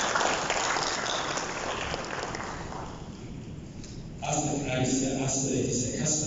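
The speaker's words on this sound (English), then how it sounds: "Please join me in giving a big round of applause." A conference audience at an opening ceremony applauds its partners in a fairly soft, continuous wash of clapping that dips briefly midway, then returns with a sustained musical tone underneath.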